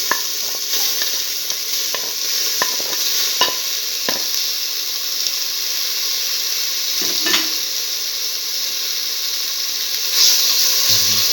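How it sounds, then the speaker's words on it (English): Tomato pieces sautéing in a pan with a spice mixture, a steady close sizzle with occasional spoon scrapes and stirring taps against the pan, no voices. "Thoroughly saute the tomato pieces to the rest of the mixture."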